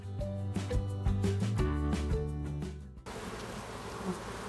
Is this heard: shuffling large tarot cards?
no